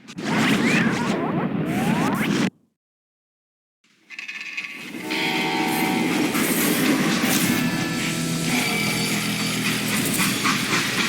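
A freight train runs steadily in the Call of Juarez: Gunslinger video game, with a rattling, clattering rumble that breaks off into a brief silence and then resumes loud and continuous.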